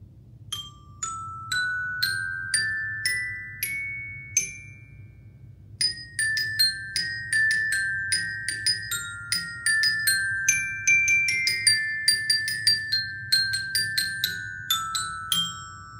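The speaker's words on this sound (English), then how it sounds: "And you learn how to play the notes, the pitches, on the xylophone." Bright xylophone notes struck one after another, a slow run of separate tones first, then a quicker busier melody, clear and close over a low background hum.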